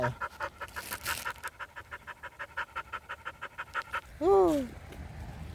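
A dog pants heavily and close by in a fast, steady run of breaths for about four seconds, then lets out a brief rising whine.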